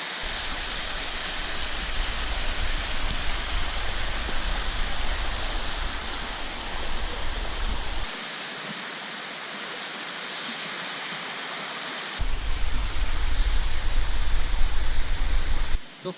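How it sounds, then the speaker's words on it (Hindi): A small waterfall makes a steady, close, full rushing roar of falling water. It continues without a break, shifting in level only slightly. "छोटा सा जलप्रपात, सुपर्ब, ये देखिए वाटरफॉल"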